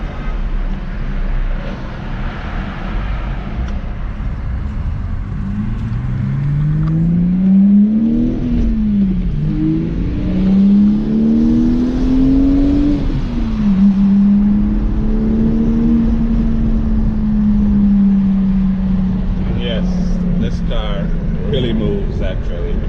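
A 2011 BMW 328i xDrive coupe accelerates hard. The engine note climbs steadily, drops briefly at each gear change, then climbs again, staying loud and close throughout.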